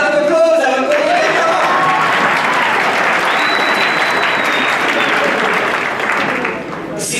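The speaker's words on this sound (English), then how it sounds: "How about a round of applause?" A keynote business seminar audience gives a loud, sustained round of applause, dense clapping from a large crowd that holds steady before easing off at the end, with a voice briefly heard at the start.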